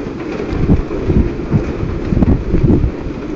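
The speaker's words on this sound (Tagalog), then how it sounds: "So ito yung ulan guys. So lakas ng ulan." Heavy rain roars steadily with gusty wind buffeting the microphone, a dense, rumbling wash of storm noise with no talking.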